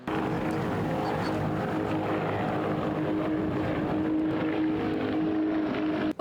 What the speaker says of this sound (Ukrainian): Спеціально для хлопців влаштували святковий проліт літаків, на яких вони навчалися.